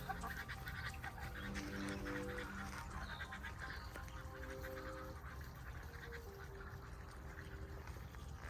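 Ducks quack repeatedly from nearby in a backyard duck pen over a steady, busy outdoor background, with overlapping calls throughout.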